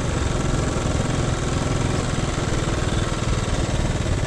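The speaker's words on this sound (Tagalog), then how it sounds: "medyo may narinig akong kaibang ingay dito sa motor" A motorcycle engine idles with a steady, close, loud mechanical throb and rattling vibration, while the rider suspects an odd noise from the bike, with no talking over it.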